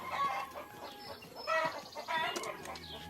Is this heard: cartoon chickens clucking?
yes